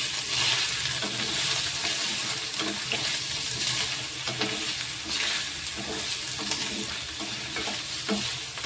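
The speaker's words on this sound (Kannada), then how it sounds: "ಇದನ್ನು ನೀಟಾಗಿ ಎಣ್ಣೆ ಒಳಗೆ ಫ್ರೈ ಮಾಡ್ಕೋತೀನಿ." Paneer gravy ingredients frying in oil in a pan over low heat, a steady close sizzle throughout with stirring clinks and scrapes scattered over it.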